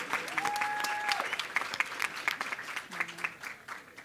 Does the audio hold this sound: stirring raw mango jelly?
no